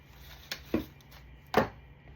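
Cutters snip off the excess end of a zip tie on a grapevine wreath: a couple of short, sharp clicks close by in a quiet room.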